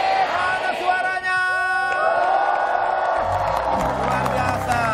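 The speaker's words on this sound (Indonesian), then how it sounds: "Terima kasih tepuk tangan dari teman-teman SMA Negeri 1 Pagelaran Lampung" An Indonesian TV talk show studio audience of high school students cheers, whoops and shouts in a loud, sustained roar with scattered clapping, as a band plays and the crowd swells near the end.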